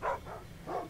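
Guard dog in the stealth game Thief barking twice, a sharp nearby bark and then a second after a short pause, with no talk.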